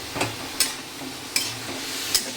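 Radish frying in a pan is stirred, with a soft steady sizzle under four sharp scraping strokes spaced roughly every half second, close and clear.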